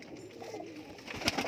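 Pigeons at a seller's loft of grey kamagar and bichhu birds give soft, low coos close by, ending in a sharper burst of sound near the end, with no talking.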